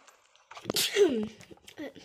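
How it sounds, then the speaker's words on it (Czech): A single sharp sneeze from a child playing games indoors, close and loud, with bits of talk in Czech around it. "Hepsík. Na zdraví."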